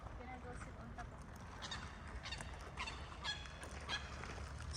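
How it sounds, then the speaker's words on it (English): Pukeko call in a marshy area at Lake Te Koo Utu in Cambridge, New Zealand, a rising series of honking squawks over steady low outdoor rumble and wind noise. "Sounds like Pukekos."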